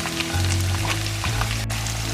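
Sliced onion hits hot oil with browned whole spices in a pan, giving a steady, close sizzle and crackle with a low background hum.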